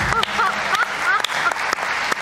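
Applause in a TV studio, a dense wash of clapping from a crowd, steady and fairly loud, with voices and a few squeaky calls mixed in.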